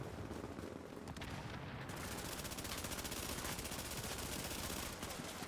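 Rapid automatic gunfire in the video game The Division, dense and loud, a continuous rattling burst that barely pauses across the whole stretch.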